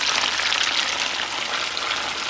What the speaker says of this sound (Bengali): আমি এবার ভাজা করে দিচ্ছি